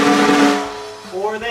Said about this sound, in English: It's not too bad when your drum rolls can sound like this